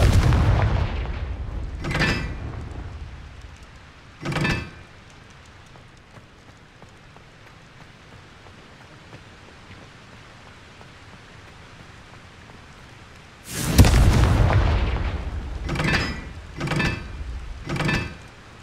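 Confringo explosive spell blasts going off in Hogwarts Legacy, heard as a few separate booming bursts at the start and a quick run of several blasts near the end, with quieter ambience between.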